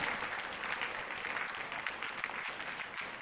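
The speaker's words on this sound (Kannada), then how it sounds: "A big round of applause." Students applaud together at a school event, a steady dense crackle of clapping hands filling the room with no pauses for the whole stretch.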